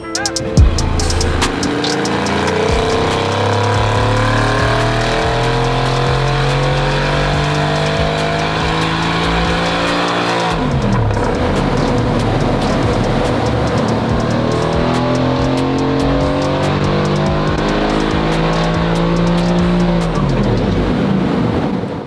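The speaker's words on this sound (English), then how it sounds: "So let's get it on the dyno and let's see what power we can make from this car." Mercedes-AMG GT R engine on a dyno during a Stage 2 tuning session, roaring loud and close as it revs up through the gears in long rising sweeps, drops back, then climbs again, with no talking.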